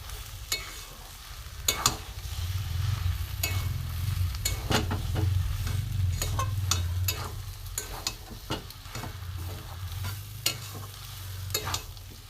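Steady sizzling and frying as a prawn and vegetable sandwich filling with garam masala and chaat masala is stirred in a pan, with repeated sharp scrapes and clinks of the spoon over continuous loud hiss.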